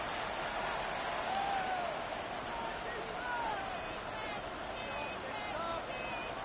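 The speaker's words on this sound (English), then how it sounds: "This crowd is making it tough down deep in the red zone." A football stadium crowd roaring as the offense sits first and goal deep in the red zone, a dense, steady wash of cheering and noise with faint whistles, heard alone at moderate distance.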